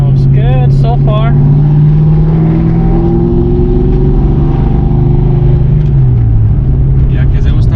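A 1994–95 Ford Mustang 5.0 liter V8 running steadily after a distributor replacement, a loud continuous engine drone with a slight pitch shift near the end, with voices briefly over it at the start.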